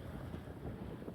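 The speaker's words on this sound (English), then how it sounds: "No sign of abating yet though, the wind." Strong wind gusting at 22 to 23 knots across a sailboat at anchor off the Balearics. It makes a steady, close, rumbling roar of wind on the microphone with a faint wash of sea beneath.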